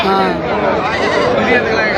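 Goats bleating at a busy livestock market, a mother goat among them, loud and continuous amid the crowd's background chatter and bustle, with people talking nearby.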